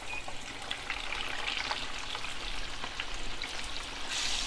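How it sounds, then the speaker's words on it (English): Khmer meat spread frying in a pan, a steady close sizzle with dense crackling and scattered small pops throughout, with no talk. "So we're going to fry this for 3 more minutes."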